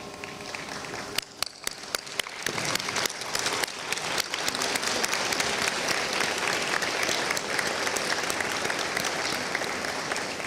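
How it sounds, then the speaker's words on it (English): A standing audience at a medical school white coat ceremony gives students a sustained round of applause, a few sharp early claps swelling into steady, loud, dense clapping that carries on for the whole stretch. "let's all stand and give these great students our round of applause"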